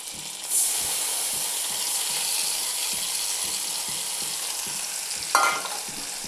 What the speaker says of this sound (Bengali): মশলাটা আগে সুন্দর করে ভেজে নিচ্ছি।